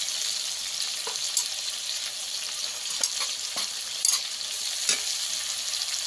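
Chopped tomato frying with ginger paste in a pan for a Bengali vegetarian potol posto, a steady close sizzle with occasional stirring scrapes and pops, no voices.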